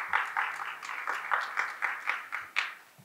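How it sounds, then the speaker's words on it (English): Rhythmic clapping from a small group at a corporate launch event, steady bursts of hand claps lasting a few seconds, fairly close. "a warm round of applause."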